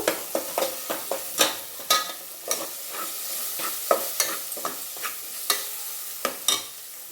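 Spices with coriander powder, turmeric, garam masala and salt frying for pulao, a low sizzle broken by a steady run of sharp spatula scrapes and taps against the pan, close and clear with no speech.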